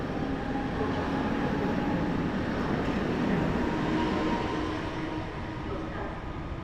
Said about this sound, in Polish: pociąg ze stacji Bydgoszcz Główna.